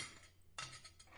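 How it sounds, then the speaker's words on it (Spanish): Dishes clink softly as large plates are carried to the sink in a quiet home setting: a faint hush, then a brief cluster of light clatter and chinks near the end, with no talking. "al menos déjame llevar los platos grandes al fregadero"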